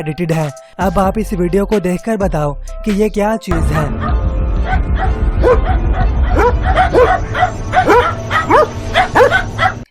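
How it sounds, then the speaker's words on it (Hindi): Dogs bark and yip repeatedly at a creature walking along a road, the barking sharp and fairly close, after a stretch where a person speaks. "कुत्ते इस पर भौंक रहे थे"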